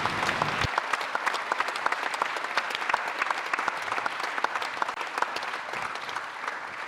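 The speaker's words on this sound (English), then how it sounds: "And round of applause for Polish judges." Sustained applause from an audience at a debate on the Polish rule of law, honouring Polish judges: dense, steady clapping that starts abruptly and fills the whole stretch at moderate loudness.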